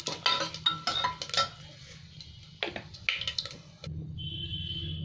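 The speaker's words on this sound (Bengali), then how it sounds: "পেঁয়াজ কেটে রেখেছি 2 বড় সাইজের, এই পেঁয়াজগুলো দিয়ে দিলাম।" Chopped onions go into a pan of frying spices: a few close utensil clatters and scrapes, then a steady, even sizzle takes over and holds to the end.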